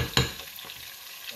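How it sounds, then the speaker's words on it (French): Sausages frying in a pan, a soft steady sizzle with a sharp stir or clatter near the start and faint scraping afterward, close and fairly quiet. "là c'est parti pour la friture."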